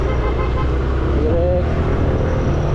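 A motorcycle engine labors and strains on a road in Batangas, a loud, steady low drone that briefly rises in pitch midway.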